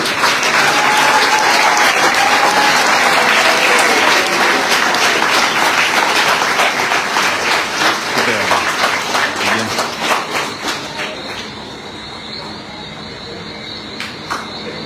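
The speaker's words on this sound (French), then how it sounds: "Sous vos applaudissements, accueillons Isao Robin Cassi Fialé" Loud applause from a crowd in Guadeloupe welcoming a young cyclist at a cycling tour presentation, sustained and dense before thinning out toward the end, with a voice speaking over it at first.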